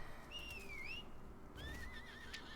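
A horse in the video game Lost Ark gives two quavering whinnies, one after another, with soft hoof clip-clops faintly beneath.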